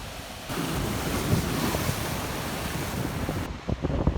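Ocean waves wash onto the shore in a steady, rushing roar with a slightly louder surge midway, while wind buffets the microphone throughout.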